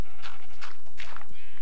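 Sheep bleating in the Minecraft video game, several loud, close bleats in quick succession with no talk.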